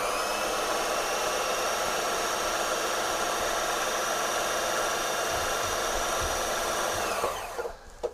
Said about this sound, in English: now we're ready to wind our bobbin